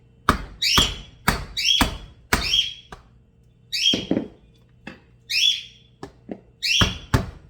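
Several loud, sharp chops cutting up a raw chicken land in an uneven rhythm, each with a ringing metallic edge, interspersed with softer thuds on a board.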